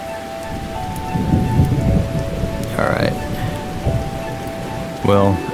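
Steady rain with a rumble of thunder during a thunderstorm in the video game CHASED, a continuous wash of rainfall with low rolling thunder and a few brief tonal game sounds over it.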